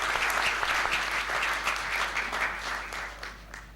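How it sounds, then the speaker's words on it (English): A forum audience claps steadily to welcome a speaker to the stage, a dense, even wash of applause that tapers slightly toward the end. "give a round of applause to welcome Mr. Clarke"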